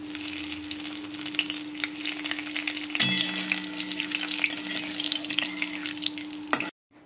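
Whole cumin, dried red chillies and bay leaves fry in hot mustard oil in a kadai, giving a steady close sizzle and crackle with a faint stirring clatter. It stops abruptly near the end.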